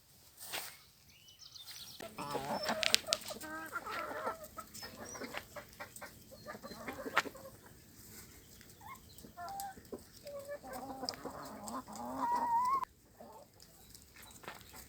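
Chickens cluck in irregular bursts with a few higher squawks, fairly close, against a quiet yard background with no talking.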